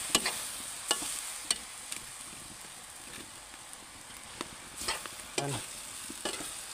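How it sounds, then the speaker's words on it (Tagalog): Pansit bihon rice noodles stirred as they fry in a pan, with a soft continuous sizzle broken by repeated scraping and clacking strokes of the utensil, close and fairly quiet. "Haluin na natin."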